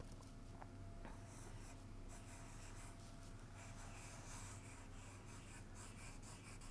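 Brush pen lettering on paper during a lettering tutorial: a steady, close scratchy rub of the tip across the sheet, continuous soft strokes with a faint background hum and no talking.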